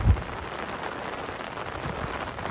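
Rain falls steadily around Baijnath temple in Palampur, a dense even hiss of drops on surfaces with no voices, one soft thump at the start.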